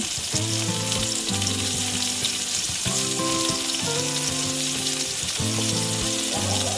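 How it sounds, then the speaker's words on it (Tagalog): Fried milkfish (bangus) goes back into a hot pan for adobo with a loud, steady sizzle and frying crackle that runs throughout, close up, with no voices. "dito na natin ilagay ulit ang ating nalutong bangus"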